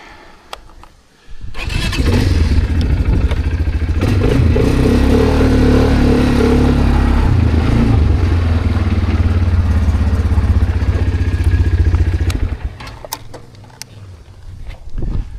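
A Bashan 300 ATV quad bike engine starts and idles loudly up close, its steady rumbling chug holding for about ten seconds before dying away, with faint clatter around it.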